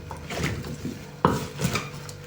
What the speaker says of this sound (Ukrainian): Все добре перемішуємо і залишаємо на 3 години.